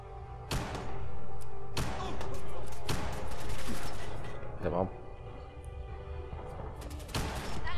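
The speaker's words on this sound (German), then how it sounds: "Was sind das für Explosionen die ganze Zeit?" Repeated loud gunshots and blasts crack out at irregular intervals amid constant game noise in Fallout 4, with a voice talking briefly in between.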